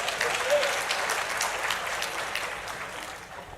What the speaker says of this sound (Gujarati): હવે 2 નો તાળી પડો.